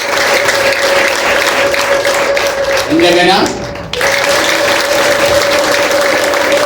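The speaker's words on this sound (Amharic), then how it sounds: "ሲልልታና ጭብጨባ ለጌታ።" Congregation in a church service applauding loudly and steadily throughout, a dense wash of clapping with a short rising vocal trill midway, likely ululation, and a voice speaking over it.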